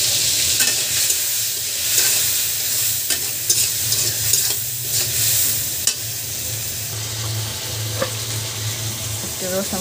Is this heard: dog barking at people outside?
no